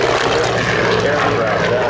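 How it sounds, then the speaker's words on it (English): Grumman F6F Hellcat warbird roaring past at an airshow, a loud, close, sustained radial-engine and propeller roar filling two seconds with no break. "here's that beautiful Hellcat as it roars past as well"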